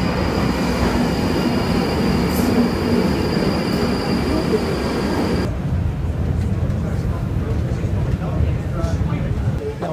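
Train at London Bridge Station heard from the platform as a loud, continuous rumble with rail hiss and a faint wheel squeal, the noise thinning partway through as the train moves on.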